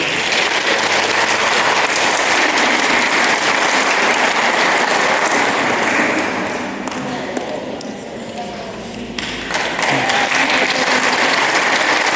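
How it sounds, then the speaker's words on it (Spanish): A wedding crowd applauds the newlyweds steadily and loudly, the clapping dipping briefly before swelling again. "Den un aplauso a los nuevos esposos."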